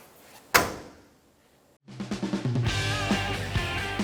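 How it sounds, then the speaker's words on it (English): The liftgate hatch on a 2012-2016 Subaru Impreza is swung shut with a single sharp, close slam, followed by a quiet pause before louder music rises. "And close the hatch."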